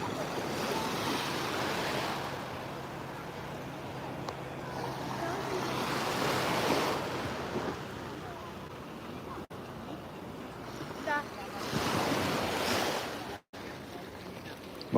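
Sea waves wash and break on a beach in long, rolling surges under steady wind noise on the microphone, with occasional faint voices in the background.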